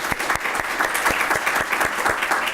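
Symposium audience clapping together, a dense run of rhythmic claps for a couple of seconds, fairly close and steady.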